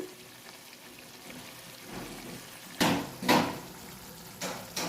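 Spices frying in a pan with turmeric, red chili powder, salt and sugar, a soft continuous sizzle broken by several louder scraping stirs in the second half.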